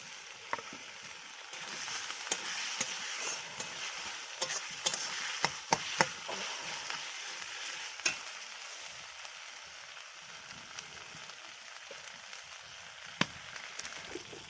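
A soft, steady sizzle of spices frying in a pan, punctuated by sharp clicks and taps of a spatula stirring, quiet and close.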